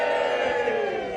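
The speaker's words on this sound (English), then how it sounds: "The crowd are here. Give us a cheer." A crowd gathered outdoors in Stirling for a charity walking challenge cheers and shouts together in one sustained, fairly distant burst of voices.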